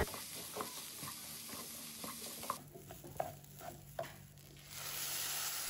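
Washed short-grain rice roasting in a pan with cardamom, cinnamon and cloves, a steady sizzle under scraping stirs that turns quieter and more crackly halfway through, with distinct spoon knocks against the pot.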